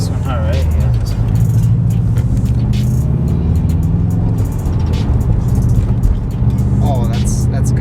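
A 2019 Subaru WRX STI on Raceland coilovers drives over a badly bumped road, with a steady loud road and engine rumble and suspension thumps throughout, and people talk over it.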